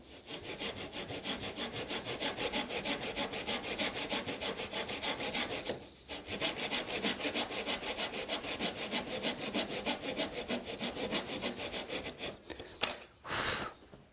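A hand saw cuts a clamped wooden board for an acoustic guitar build, a steady rhythmic back-and-forth rasp of even strokes close by, pausing briefly midway and ending with a few final strokes.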